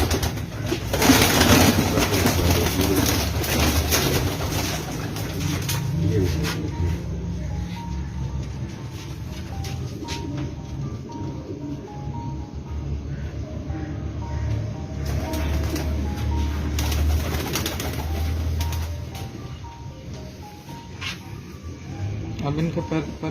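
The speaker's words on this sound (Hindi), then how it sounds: "और फुली परेल कबूतर हैं जी" Parel pigeons coo in low, repeated calls close by, with someone talking over them for much of the time, as birds are handled and shown.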